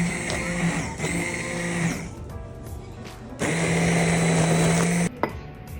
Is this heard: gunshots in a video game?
no